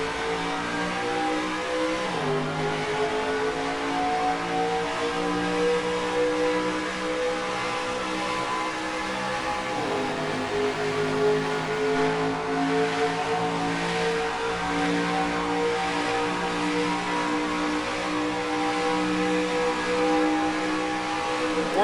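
Several race car engines in the NASCAR Racing 2003 sim, droning and revving together as the field rolls toward the green flag at SimTel, with rising and falling pitches layered under a steady, loud roar.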